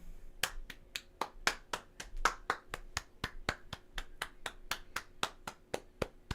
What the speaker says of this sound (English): I'll clap since we don't have a sound effect.